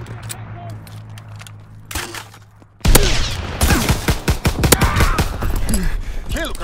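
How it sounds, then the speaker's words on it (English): Fighter plane strafing in Call of Duty WWII: a quiet stretch with a brief shot gives way to a loud, sustained rattle of rapid gunfire and impacts, with game voice callouts in the mix. "Fighter pilot inbound, strafing the target!"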